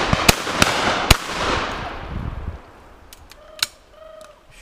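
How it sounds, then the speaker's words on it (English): Shotgun shots at a pheasant shoot on a country estate, three sharp reports in quick succession with a rolling echo, followed by a fainter distant bang and bird calls in the open air. "Shooting over Chloe then."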